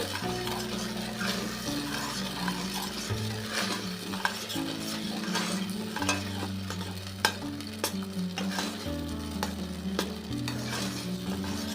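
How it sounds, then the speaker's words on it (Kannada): A spiced garlic-methi paste fries in a pan over a medium flame while being stirred, giving a steady sizzle broken by scraping and occasional sharp clinks of a utensil against metal. "ಇದನ್ನ ಒಂದು ಸಲ ಚೆನ್ನಾಗಿ ಕೈ ಆಡ್ಕೊಂಬಿಡೋಣ"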